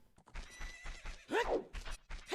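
A horse in Zelda: Ocarina of Time gives a loud, close whinny with a rising and falling pitch, set among steady clip-clop hoofbeats and game sounds. No one speaks over it.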